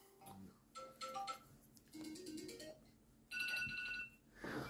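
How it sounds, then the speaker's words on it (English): A phone plays a run of different ringtones one after another, short melodic tone sequences and chimes separated by brief gaps, fairly close and clear with no talking over them. "I'm trying to listen to my ringtones"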